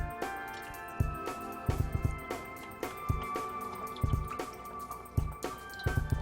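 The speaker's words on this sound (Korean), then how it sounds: "코팅할 후라이팬을 이렇게 준비하고 요 그냥 우유를 부어주세요" Milk is poured straight into a frying pan from a carton, giving wet liquid splashes and soft low thumps in uneven bursts, close and moderately loud, with no talking.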